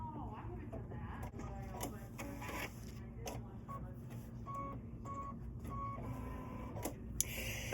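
A Kimberbell embroidery machine stitches out a design with a steady mechanical hum and rhythmic whirring, close and continuous, with a few brief higher beeping tones and a voice faintly present underneath.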